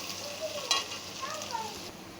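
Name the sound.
onion and garlic frying in oil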